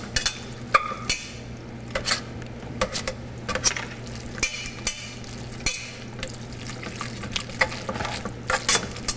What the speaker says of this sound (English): We're simply gonna stir everything around.